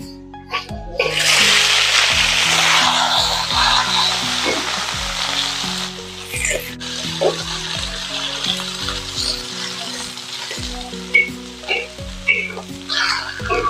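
Pickled Chinese cabbage and ginger sizzle loudly in a hot oiled wok, with a burst of frying as the cabbage goes in. Spatula stirs and scrapes repeat as the crackle settles into a steady hiss.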